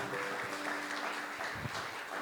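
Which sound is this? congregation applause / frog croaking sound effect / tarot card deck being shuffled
congregation applause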